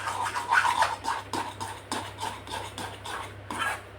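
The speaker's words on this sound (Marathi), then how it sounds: "आता हे छान मिक्स करून घ्यायचं आहे आणि गॅस बंद करायचा आहे" A spoon stirring sanjya filling in a pan on the gas stove, with soft, close scraping strokes in an uneven rhythm against the metal.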